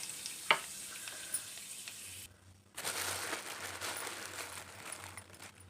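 Curry leaves, two to three sprigs, crackle and sizzle in hot oil for a restaurant-style chicken fry, with a sharp pop early on, a brief quiet gap, then a steady close hiss of frying and stirring.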